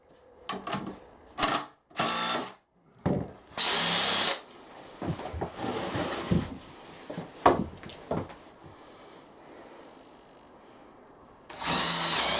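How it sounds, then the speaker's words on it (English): A power drill bores a hole into timber for a door frame in a DIY shed build, firing in several short bursts and a few longer whirring runs, loud and close, with brief quiet gaps between. "I'm just going to very carefully drill a hole in the timber before I secure these"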